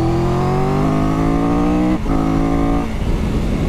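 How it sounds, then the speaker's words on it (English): A Triumph Tiger 1200 GT Pro motorcycle with its T-plane triple engine revs hard and close, the engine note climbing steadily, dipping briefly at a gear change, then pulling on loudly with no talk. "I love the sound of this engine."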